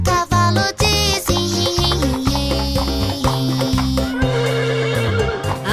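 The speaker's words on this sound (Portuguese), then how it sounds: "O cavalo diz..." A horse on a farm neighs in a loud, close, drawn-out whinny, rising and falling in pitch over several seconds, set against rhythmic music in a children's song.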